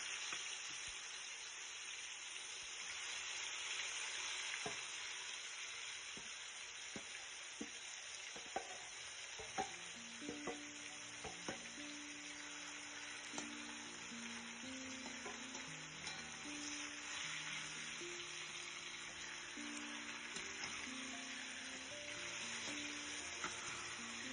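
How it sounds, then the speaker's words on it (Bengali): Marinated lote fish fries over medium heat in a kadai, giving a steady, soft sizzle with faint scraping and stirring clicks throughout and no voices. "এবার ম্যারিনেট করা মাছগুলো কড়াইয়ে দিয়ে দিন। মিডিয়াম আঁচে 10 মিনিট নেড়ে চেড়ে রান্না করুন।"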